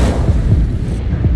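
An Incendio fire spell cast in Hogwarts Legacy gives a loud, rumbling burst with low thumps and a fiery roar that lasts the whole moment.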